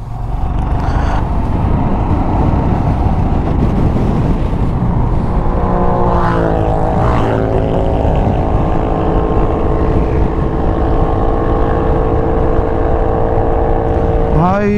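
A Suzuki Hayabusa superbike revs hard during a 0 to 100 race, its engine roaring loud and close with a rising whine as it accelerates, over a steady drone of traffic and wind.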